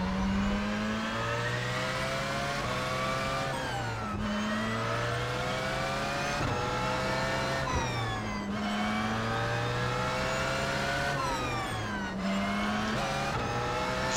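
LMP1 prototype race car in iRacing at Circuit of the Americas, engine revving hard through the gears, repeated rising pitch sweeps cut by upshifts roughly every four seconds, loud and continuous with no talking.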